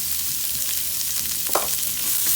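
Carrots fry in butter in a pan, giving a steady, dense sizzle with faint crackles and one brief louder scrape midway, close and continuous with no voices.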